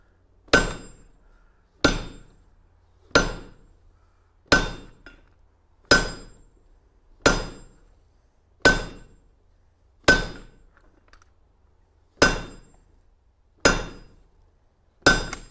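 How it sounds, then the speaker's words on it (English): A hammer strikes metal twelve times in a slow, steady rhythm, each blow ringing sharply and decaying before the next, with nothing else heard between. "Nope, use the same hammer."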